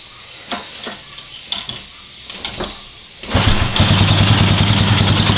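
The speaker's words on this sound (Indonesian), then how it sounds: "Ini langsam nyala, tak nyalain dulu. Nanti tak geber." A Honda Revo motorcycle engine with a sputtering fault cranks with a few short bursts, then catches and settles into a loud, steady idle.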